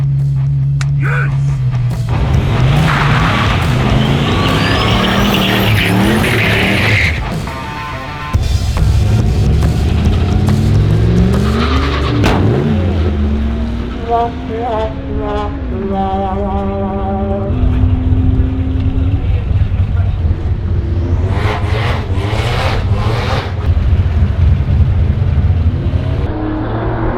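Turbocharged Holden VY drag car doing a second-gear burnout and run: a loud, close engine revs hard and rises through the gears, with screeching tyres and a brief drop partway through, over faint voices.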